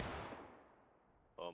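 Gunfire from Civil War-era muskets at a river crossing in the video game War of Rights: a loud burst that fades into a long rumbling decay, followed by a sharp new report at the end.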